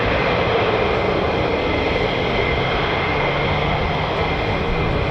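F-35 fighter jets at RAF Lakenheath produce a steady, loud engine roar that fills the whole stretch without letting up, with no voices over it.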